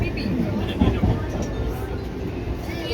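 Steady low rumble inside a moving train carriage, with muffled voices in the background.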